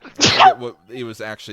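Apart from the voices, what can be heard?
sneeze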